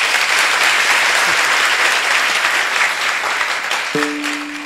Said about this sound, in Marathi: एकदा टाळ्या तर वाजवा